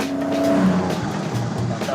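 JDM car engine revving with tire squeal while driving, a close, loud, continuous engine roar with a squealing tone early on and no talk.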